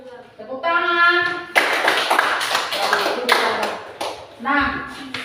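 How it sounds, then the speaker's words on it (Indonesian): A primary school class claps hands together in short rhythmic bursts, loud and close, with a teacher's voice heard before and after the clapping. "Tepuk tangan."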